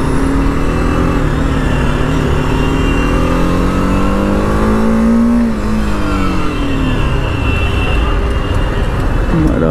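A car engine revs loud and steady, pitch rising then falling, alongside heavy road rumble in the cabin during a Sunday drive.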